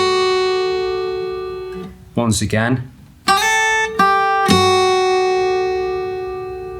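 Acoustic guitar playing the verse of a song in a fingerstyle arrangement, ringing plucked notes broken by a sharp percussive hit, with a brief spoken remark in the middle.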